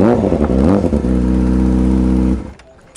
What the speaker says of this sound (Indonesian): Dengan motornya ini bos saya datang.